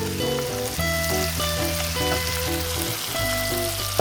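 Garlic and onion fry and get stirred in a pan, a steady close sizzle with scraping stir strokes, while music plays underneath throughout.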